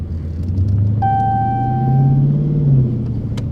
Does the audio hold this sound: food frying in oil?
no